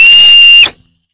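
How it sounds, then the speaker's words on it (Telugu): A single sharp, steady whistle from a person calling sheepdogs holds for over half a second, then cuts off into silence; loud and close. "నేను కూడా విజిల్ వేసాను"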